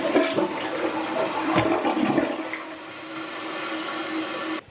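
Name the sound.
regular toilet flush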